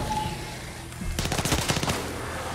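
Gunfire in the Far Cry 6 video game, a quick burst of about eight sharp automatic shots in rapid rhythm, close and loud, following a low ambient hum.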